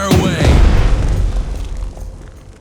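Naval guns in the Pacific naval strategy game Strategic Mind The Pacific let off a loud, close boom that rolls into a long, fading rumble over a couple of seconds.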